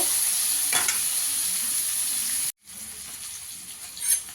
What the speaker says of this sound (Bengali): আলুগুলোকে একটু লাল করে ভেজে নেব।